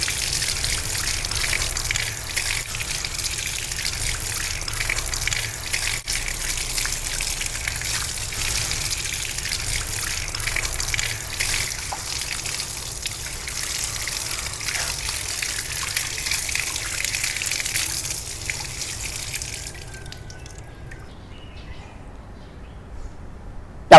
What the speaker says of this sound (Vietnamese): Sau đó các bạn sẽ rửa sạch bộ rễ.